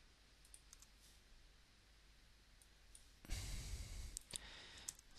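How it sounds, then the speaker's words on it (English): A computer mouse clicks faintly on a trading chart, with a few soft, scattered ticks, some in quick pairs, close by, then a rush of breathy noise near the end. "So all I'm doing is double clicking on where it traded."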